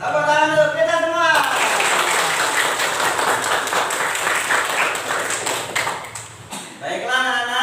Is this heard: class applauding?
yes